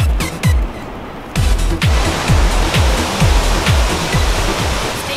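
Niagara Falls in Canada roaring as a dense, continuous wall of loud rushing water, close by, with recurring low thumps over the steady roar and no talking.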